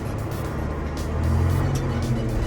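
A TCM 850 wheel loader's diesel engine rumbles steadily nearby, swelling slightly midway as it works through the gears, with a low droning hum and no speech.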